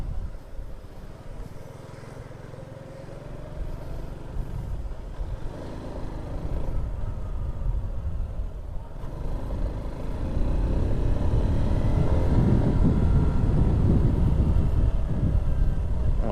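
A 2021 Honda RS125 motorcycle on its first ride, shifting into second gear, its engine a steady broadband drone that swells louder after about ten seconds.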